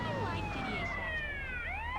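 A video-game police siren wails, sweeping downward and then rising again, steady and moderately loud over a low engine hum.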